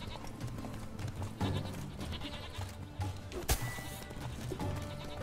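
Sheep bleat in the video game The Witcher 3: Blood and Wine, several short bleats close by over game ambience, with one sharp crash partway through.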